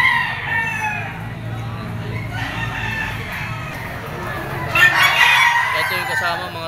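Chickens cluck and a rooster crows amid a busy farmyard at a livestock auction market in Lipa, with a louder burst of calls toward the end.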